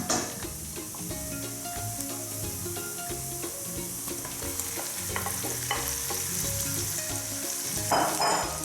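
Beef sizzling loudly in a frying pan alongside translucent onions, a steady crackling fry with frequent stirring scrapes and clinks, close and continuous with no talk.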